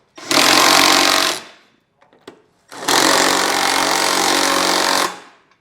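Two loud bursts of a power tool snugging bolts on a Curt trailer hitch receiver on a 2023 Chevrolet Traverse, each a rapid hammering buzz, the second one longer, with a few clanks between them.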